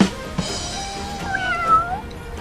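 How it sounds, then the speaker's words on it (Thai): A cat meows on a busy street in Bangkok's Yaowarat Chinatown amid steady crowd and traffic noise; a couple of drawn-out, rising-and-falling meows stand out moderately loud against the background. "อีแมวด้วย"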